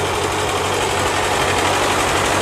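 A Ford 9N tractor engine runs steadily and loudly, a continuous close-up mechanical drone with no talk, as the tractor is put into gear.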